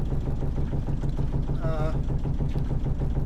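A yacht's inboard engine idles steadily at the quay, its low rumble continuous and close, with faint sputtering of cooling water spitting from the exhaust; a voice speaks briefly over it.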